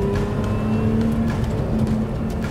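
A 2023 Lotus Emira mid-engine sports car with manual transmission accelerates with a loud, steady engine drone and a rising tonal whine, close and continuous with no talking.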